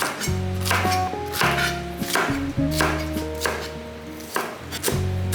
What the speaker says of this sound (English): Then you're gonna dice up your Bambi lettuce.